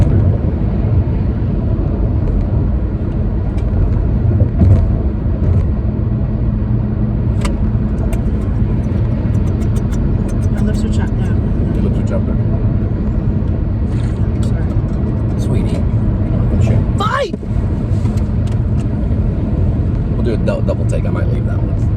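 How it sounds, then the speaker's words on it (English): A car driving along with a steady, loud engine and road rumble that continues without a break, and a brief swell near the end as something passes. "now you can watch us drive."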